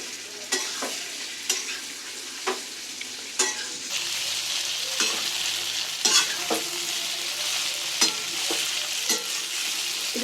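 Tempered idli being stirred and fried in a pan, with a steady sizzle of oil and repeated sharp scrapes and clinks of a spoon against the pan, close and fairly loud, no talking.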